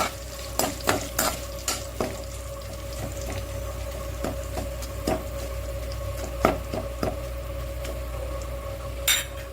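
Curry leaves and spices frying on low heat in a pan for coconut rice: a steady soft sizzle under repeated sharp clinks and scrapes of a spoon stirring against the pan, close up, with a steady background hum and no talking.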